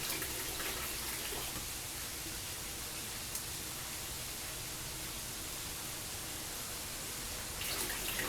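Water pouring steadily into an aquaponic system, a constant broadband rush like a running tap filling a tank, with no talk over it.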